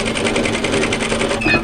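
A sewing machine stitches along a fabric strip for a dress, its needle chattering in a fast, even rhythm, close and clear without pause.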